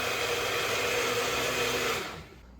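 An immersion blender or similar motor-driven appliance whirs steadily as it purees a pot of potato soup, running loud and constant for about two seconds before cutting off, with no talking.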